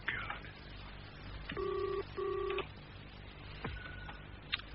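Two short bursts of a telephone ring tone sound through a phone line, separated by a brief pause, amid light clicks and handling noise.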